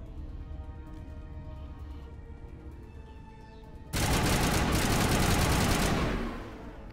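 Gunfire in the Mass Effect video game: a loud, dense burst of rapid shots erupts suddenly after a quieter stretch of background game sound, lasting a couple of seconds before easing off.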